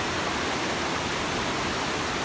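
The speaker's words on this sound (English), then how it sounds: "had to check out the waterfall" A waterfall near Whitney Portal on Mount Whitney gives a steady, dense rushing roar that stays even and unbroken throughout.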